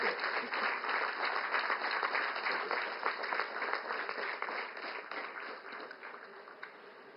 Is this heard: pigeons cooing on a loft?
no